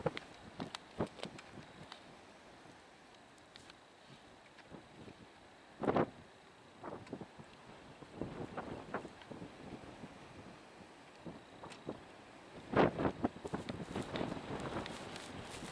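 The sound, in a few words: strong wind blowing outdoors, wind noise on microphone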